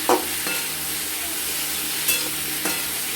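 Hilsa fish curry with chal kumro (ash gourd) and turmeric powder stirred in a pan, giving a low steady sizzle with a few sharp scrapes of the spoon against the metal, close by and with no talking.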